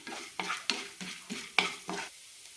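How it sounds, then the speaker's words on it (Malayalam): A spoon scrapes and rattles through chana dal and urad dal dry roasting in a pan, about six evenly spaced stirring strokes, close up and soft, with no voices. "ചെറുതായി ചോക്കുന്നവരെ വറുത്തെടുക്കാം."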